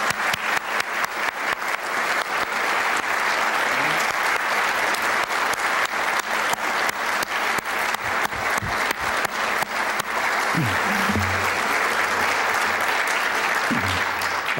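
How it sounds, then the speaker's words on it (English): Applause from an audience at a school Hall of Fame induction ceremony rings out as a dense, sustained clapping for the new inductees, with a few faint voices mixed in. "Let's give one more round of applause for our new inductees."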